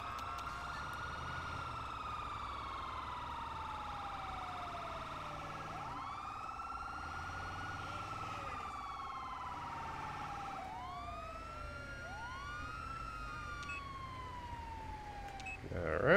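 An EMS ambulance siren in the video game GTA 5 wails and yelps continuously, its pitch sweeping up and down in repeated cycles over a constant engine and road hum, loud and close throughout.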